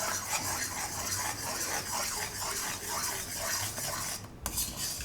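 A spoon stirs a thickening gulkand barfi mixture in a pan, giving a continuous scraping, bubbling swirl that stays close and steady throughout with a brief break near the end.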